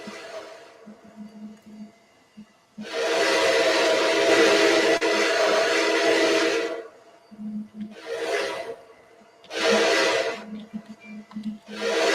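A 2019 version of a train's whistle sounds loud and close: one long sustained blast, then several shorter blasts in quick succession, with no talking.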